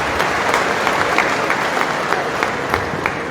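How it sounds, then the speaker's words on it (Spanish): Steady congregational clapping during a Catholic church service before the Eucharist, a dense, even patter of many hands with faint rhythmic accents, continuing at a constant level throughout. "palmas para Cristo y María"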